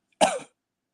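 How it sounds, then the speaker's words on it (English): A single short, close cough muffled into an elbow, one sharp burst followed by silence. "Elbow cough."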